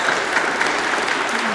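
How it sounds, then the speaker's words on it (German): Congregation applause during a New Year's Day festive church service: a brief, dense burst of many hands clapping, fairly close and steady, with no talk over it. "da kann man Applaus geben"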